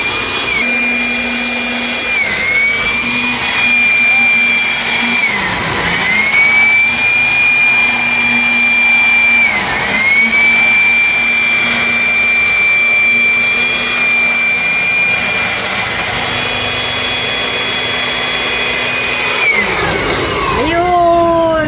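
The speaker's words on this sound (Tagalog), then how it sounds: "Nagpo-blower siya, nagpo-blower" A loud motor-driven blower whines steadily, its pitch dipping and rising a few times, with a voice speaking over the continuous roar.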